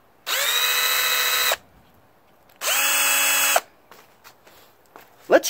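A SCANS 20V cordless drill driver with keyless chuck whirs loudly in two bursts, spinning up and running about a second each, followed by faint clicks and handling noises.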